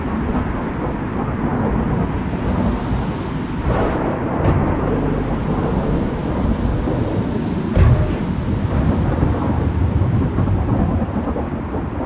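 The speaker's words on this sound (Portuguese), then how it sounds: "A tempestade de areia." Steady roaring wind of a sandstorm in Gas Station Simulator, a dense, loud rushing wash with faint gusts and rumbles, continuous throughout with no talking.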